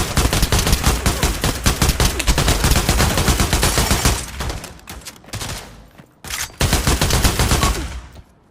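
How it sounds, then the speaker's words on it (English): Full-auto AK rifle fire in a VR shooter game rattles out in long, dense bursts, loud and close, then breaks into shorter volleys with brief gaps of near silence. "I'm going to grab an AK real quick, just a standard AK. It's full auto"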